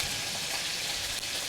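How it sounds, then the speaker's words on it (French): Bacon lardons sizzle as they brown in a pan, a steady, close hiss and crackle that carries on unbroken with no voices. "Pendant que mes lardons colorent"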